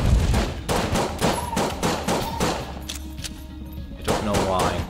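Rapid bursts of video-game gunfire from Enter the Gungeon repeat in quick volleys, sharp and loud, with brief pauses between them and a voice talking over parts of it.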